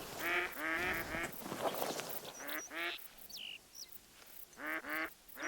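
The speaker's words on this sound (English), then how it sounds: "there are ducks." Ducks quack repeatedly in the hunting video game The Hunter: Call of the Wild, several nasal calls in clusters over a soft wind-like outdoor ambience, with a few faint high bird chirps between.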